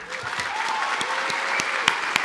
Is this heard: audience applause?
yes